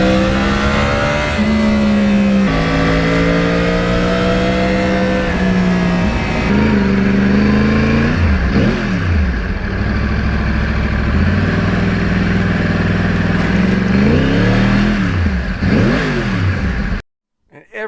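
A Yamaha R1 crossplane motorcycle engine runs loud and close while riding, its note rising and falling through repeated revs and gear changes before cutting off abruptly at the end.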